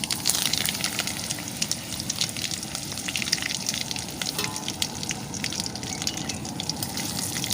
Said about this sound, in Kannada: ಇವಾಗ ಸಾಸಿವೆ ಸಿಡಿತ ಉಂಟು